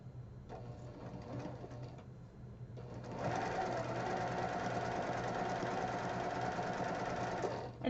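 A sewing machine stitches quilt pieces in short bursts at first, then runs steadily for several seconds with a close, even mechanical whir and rapid needle chatter.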